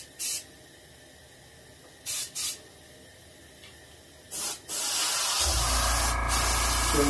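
An airbrush hand-sprays paint onto a skin-mounted bluegill fish, giving three short hissing bursts with pauses between, then a long, louder continuous spray with a low compressor-like rumble beneath.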